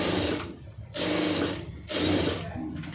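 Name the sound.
sewing machine stitching a lining piece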